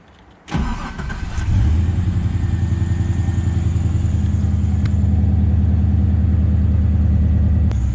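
LS1 V8 in a Nissan GU Patrol cranking and firing up after a quiet moment, then settling into a loud, steady, lumpy idle close by.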